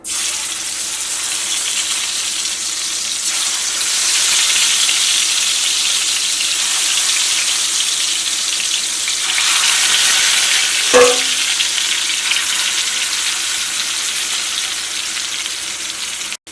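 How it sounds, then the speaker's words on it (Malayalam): Chicken fries steadily in hot coconut oil with a loud, continuous sizzle. A single short clink of metal stands out about two-thirds of the way through. "ഞാൻ വെളിച്ചെണ്ണയിലാണ് ചിക്കൻ വറുത്തിട്ട് എടുക്കുന്നത്"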